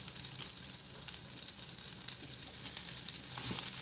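Breakfast sausages sizzle in a hot pan, a steady close-up hiss with scattered crackles and pops throughout, no voices.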